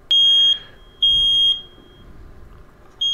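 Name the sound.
carbon monoxide detector alarm beeping during test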